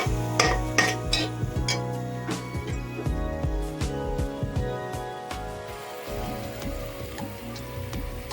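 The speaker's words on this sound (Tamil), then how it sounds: "பச்சை வாசம் போகிற வரைக்கும் நல்லா கிளறி விட்டுக்கலாம்" Chicken masala stirred in a pan while it cooks, with repeated close scrapes and clinks of a spoon against the metal over a crackling, rain-like sizzle.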